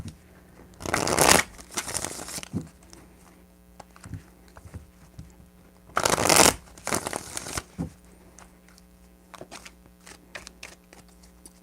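A deck of cards shuffled in three quick riffling bursts, close and crisp, with light handling clicks and taps between them.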